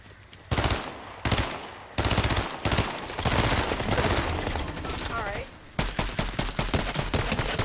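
Rapid automatic gunfire from a Fortnite squad match, bursts of shots crackling loud and close in clipped volleys with brief gaps, ending in a fast run of distinct reports, while players talk over the fighting.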